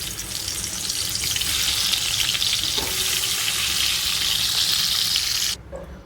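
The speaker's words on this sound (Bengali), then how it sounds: "এবার আলু ভেজে নেব।" Salted, turmeric-coated potatoes sizzle loudly and continuously in hot oil for biryani, a dense close frying hiss that cuts off abruptly near the end, with no talking.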